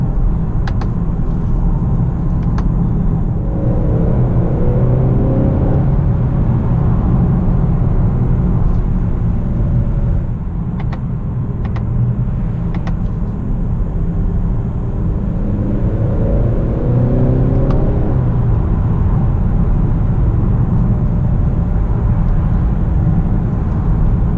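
A 2019 Honda Accord Sport 2.0T with 10-speed automatic drives in Sport mode, a steady low engine and road rumble inside the cabin that swells as revs rise, continuous and loud with no talk.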